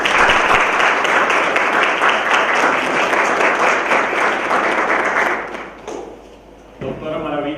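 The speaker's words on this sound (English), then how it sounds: "So please join me in giving them a round of applause." Loud, steady applause from a lecture audience fills the room for about six seconds, then fades and gives way to a speaker's voice.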